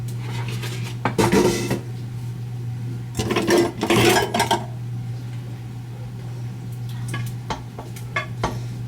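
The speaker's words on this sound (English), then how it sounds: "In goes the ground meat too" Ground goose meat with its juices and oil goes into a pot of chili with canned ingredients, bringing bursts of clanking metal and scraping utensils, a few louder knocks spaced between quieter stretches, over a steady low hum.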